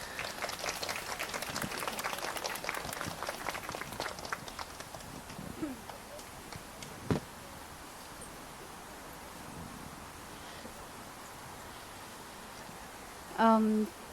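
Applause at a Cantonese wedding banquet, fairly distant: a few seconds of clapping that thins out and fades, then a quiet room with a brief knock and a short tone near the end.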